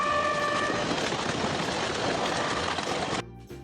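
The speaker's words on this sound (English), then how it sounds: "T for train." A train roars past loud and close as a steady continuous rush with a horn-like tone early on, then cuts off abruptly near the end.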